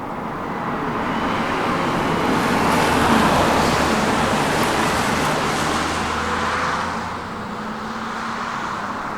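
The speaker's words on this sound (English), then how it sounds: "the little rumble of this V6 is something that a Turbo 4 can never mimic" Low, steady rumble of a 2026 Lexus IS 350 AWD V6 engine, heard as a smooth drone with a gentle swell in the middle and a slight drop near the end, no talking.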